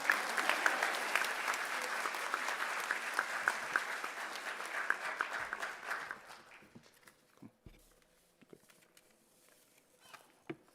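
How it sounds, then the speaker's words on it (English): An audience applauding at an 8th grade promotion ceremony; dense, steady clapping for about six seconds, then fading to a few scattered claps and faint room noise. "Y'all can clap now."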